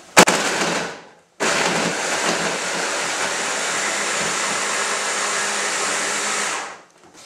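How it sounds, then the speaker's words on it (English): A food processor blitzes peeled carrots for a cottage pie with a loud, dense, close whirring roar. A short burst is followed by a brief stop, then a sustained run of about five seconds before it winds down. "peel them and just blitz them in my food processor"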